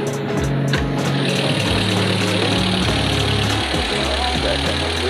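A 1991 Peugeot SR car engine idling, a steady low rumble with a slight knocking texture that continues close and loud for several seconds without speech.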